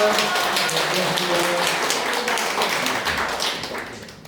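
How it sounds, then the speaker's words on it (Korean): A lecture audience applauds in thanks at the close of a professor's special talk, a dense, steady wash of clapping that stays loud throughout and tapers slightly toward the end, with faint voices underneath. "아주 감사의 박수"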